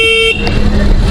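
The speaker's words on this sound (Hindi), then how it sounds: "अभी मैंने जो है हॉर्न दबाने की कोशिश की बिना हॉर्न की तरफ देखे" A brief, steady electronic horn beep from a Hero Electric Optima electric scooter, loud and close, cut off abruptly and followed by rumbling vehicle noise.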